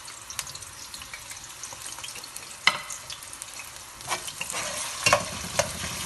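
Chopped masala frying in hot oil for kadhi kofta gives a steady crackling sizzle, broken by scraping stirs and a few sharper clatters of the spoon toward the end.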